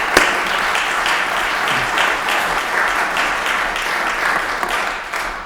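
Audience applause at a city council meeting, steady dense clapping from a room of people throughout, fairly loud and even, tapering slightly at the end.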